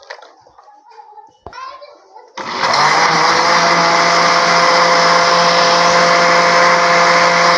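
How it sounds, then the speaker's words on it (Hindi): A kitchen grinder churns cultured cream into butter. A short stretch of talk comes first, then the motor kicks in with a loud, steady, high whirring roar that runs unbroken to the end. "तो अब इसको ग्राइंडर में बनाते हैं इसका मक्खन"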